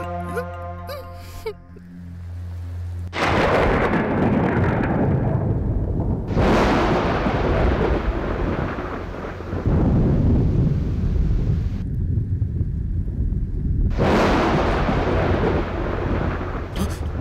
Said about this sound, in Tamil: என்னமா மழை பெஞ்சிட்டு இருக்கு?